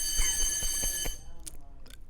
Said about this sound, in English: they seem to be doing a fire alarm test. So intermittently, in the background, you might hear a very harsh fire alarm